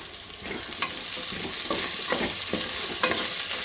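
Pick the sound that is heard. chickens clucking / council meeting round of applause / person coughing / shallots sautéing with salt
shallots sautéing with salt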